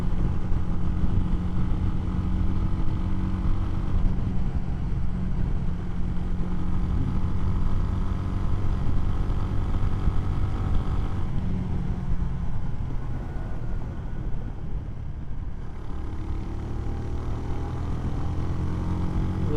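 A CSC SG250 cafe racer motorcycle engine drones steadily while riding at speed, a continuous rumbling hum with wind noise that eases slightly partway through, with no talking.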